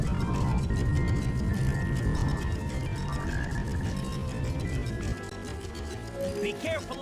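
A black frog croaks in the Sonic Heroes rainforest stage, rapid rhythmic low croaking pulses running under game music and effects, with a player talking over it.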